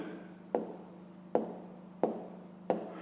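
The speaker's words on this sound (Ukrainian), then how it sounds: "Записуємо." A pen writes an answer by hand on paper during a 5th-grade math exercise. Four short scratchy strokes sit close and clear at a steady rhythm, with no talk.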